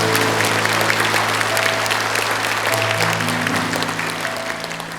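A church congregation applauding during a revival service, a dense and steady wash of clapping that fills the room and fades slightly toward the end, with sustained keyboard or organ notes ringing underneath.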